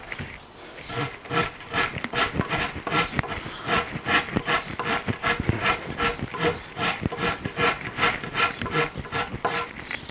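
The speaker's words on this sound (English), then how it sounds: "Basically I'm taking off this lump right here, and on the top I'm going to take this lump and kind of blend it all together." An Iwasaki file rasps the wood of a guitar neck heel, its fine side used to blend the contour, in quick, even back-and-forth strokes that rise and fall in a steady rhythm, close and loud with no voice.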